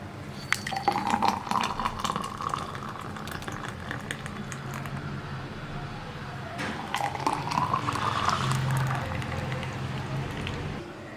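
Papaya juice is poured into a glass in two bursts, a trickling fill that rises in pitch as the glass fills, with a soft clink near the end.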